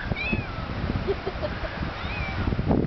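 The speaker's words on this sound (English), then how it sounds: "We'll just zoom back over here to the whiny cat." A whiny pet cat outdoors on a summer day meows repeatedly in drawn-out, rising and falling cries, moderately close, over low background rustle and faint ambient noise.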